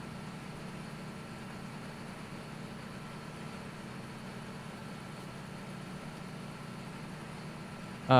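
8530 tractor spraying in the video game Farming Simulator 17, a steady low engine hum that runs evenly and fairly quietly throughout, ending in a brief louder burst at the very end.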